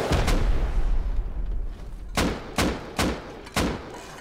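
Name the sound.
gunfire in the video game Rust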